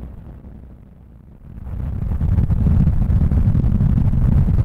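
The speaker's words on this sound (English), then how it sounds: "Ground explosion rumble." Synthesized ground explosion rumble effect from the Cypher 2 synth: a quiet low roar that swells after a second into a loud, sustained, noisy rumble that keeps building, with no voices.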